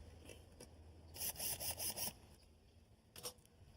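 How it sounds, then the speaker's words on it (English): A drill bores a pilot hole into a door jamb as the header is set, a short burst of fast rasping whir near the mic lasting under a second, then a brief second touch. "Pre-drill a hole."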